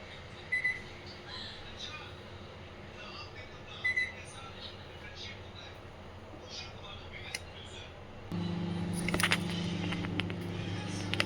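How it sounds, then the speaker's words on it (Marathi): Kitchen oven switched on: a faint click, then a steady low electrical hum and fan drone start up and continue, with brief beeps and small clicks, near and quiet. "ओव्हन चालू झालंय, हे बघा"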